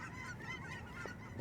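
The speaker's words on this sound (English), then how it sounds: "these geese are loud" Geese honking loudly outdoors, several harsh nasal honks overlapping in a noisy flock, fairly close and continuous, ending in a sharper rising call.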